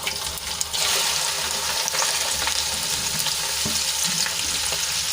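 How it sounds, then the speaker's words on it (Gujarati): Okra sizzles and crackles in hot oil with asafoetida while being stirred, with occasional scraping clicks of a utensil against the pan. "હવે ભીંડાને એડ કર્યા બાદ આપણે તેલમાં સરસ રીતે એને મિક્સ કરી લઈશું"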